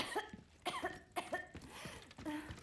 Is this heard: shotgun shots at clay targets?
no